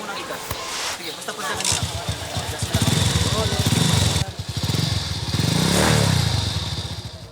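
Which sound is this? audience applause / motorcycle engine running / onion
motorcycle engine running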